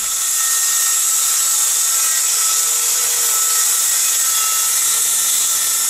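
A DeWalt jobsite table saw cutting through wood on a cross cut sled, a steady loud high-pitched whine and rasp for the whole cut, with no talking.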